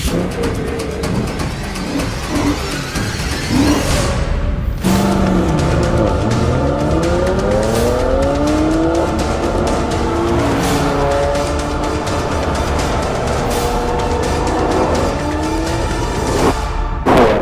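A BMW M3 and a Dinan-tuned BMW 335i launch down a quarter-mile drag strip, engines roaring loud as they rev and accelerate hard through repeated gear changes, with no talking.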